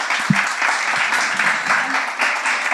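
An audience at a workshop on job tips bursts into steady applause, a dense, loud clapping that carries on for the whole moment without pause.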